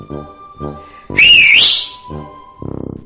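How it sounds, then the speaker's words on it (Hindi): A fox in an animated animal story blows a single whistle to start a race, a loud, shrill blast that rises and then bends down in pitch over soft background tones. "लोमड़ी ने सीटी बजाई।"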